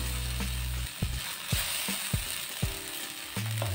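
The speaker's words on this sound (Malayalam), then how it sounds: "കറിവേപ്പില ഇട്ട് നല്ലായിട്ട് മൂക്കണം." Curry leaves, green chillies and tomato fry in a pan of oil for a traditional yellowfin tuna curry, giving a strong continuous sizzle broken by regular scraping stirs.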